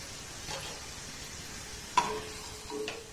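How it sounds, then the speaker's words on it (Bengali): Small flour-dough sweets (jamun) frying in hot oil over a gas flame turned up to medium-high. A soft, steady sizzle runs throughout, broken by a couple of light clinks, with no talking. "গ্যাসের ফ্লেমটাকে এবার মিডিয়ামটা একটু হাই দিয়ে মিষ্টিগুলোকে আমি ভেজে নেব"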